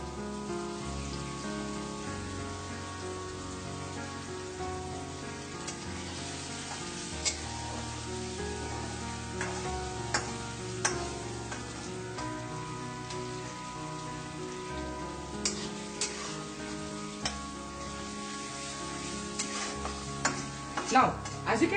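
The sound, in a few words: onions frying and being stirred in a pan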